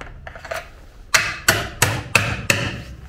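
A hammer drives a facade anchor into a dry D500 aerated concrete block that will not seat fully, giving five loud, evenly spaced impacts after a few softer taps.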